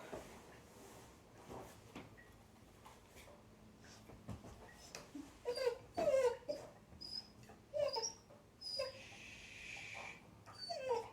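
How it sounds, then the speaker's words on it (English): A dog whimpers and yips in short, high, wavering bursts in a quiet indoor room during a lumbar spine physical examination, the cries growing more frequent toward the end. "Sorry, that's my dog."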